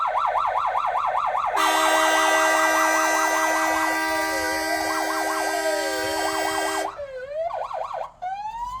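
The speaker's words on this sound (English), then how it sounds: "We're gonna let him pull up here beside them and just sit beside them and run all the sirens and stuff" Emergency vehicle sirens blaring up close beside draft horses in a city, a loud wailing siren joined by a steady piercing electronic tone, then shifting yelp patterns with brief pauses.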